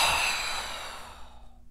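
A single long exhale blown out through the mouth during a breathing exercise, close and clear, fading gradually to silence.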